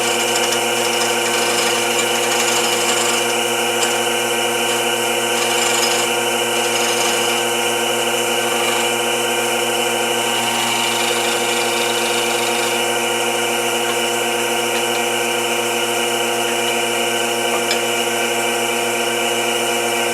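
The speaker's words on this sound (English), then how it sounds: "I like to use a small round scraper to kind of smooth up the bottom" Steady whirring of a spinning lathe with a small round scraper rasping against the bottom of a wooden bowl, a continuous even drone with faint scratchy variation throughout.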